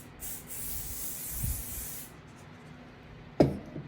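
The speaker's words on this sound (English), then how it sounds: "we're gonna use the spray adhesive again" Spray adhesive hisses from an aerosol can in one steady burst of about two seconds, close and moderately loud, followed by quiet and a sharp knock near the end.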